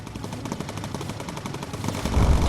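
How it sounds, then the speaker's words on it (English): In the video game Bomber Crew, a missile is fired at an enemy fighter amid rapid rhythmic gunfire, loud and continuous, with a deeper rumbling burst at the end. "Fire a missile at him."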